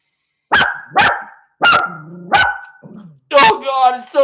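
A dog barks sharply close by, four loud single barks spaced about half a second apart, then a pause and a final bark that runs into a longer whining yelp, with brief vocal sounds between barks.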